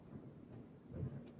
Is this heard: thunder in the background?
yes